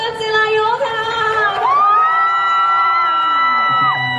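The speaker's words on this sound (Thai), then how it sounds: "ขอเสียงปรบมือ" A stage event audience at a shopping mall in Bangkok cheers loudly, with sustained whoops and excited yells swelling and holding for several seconds.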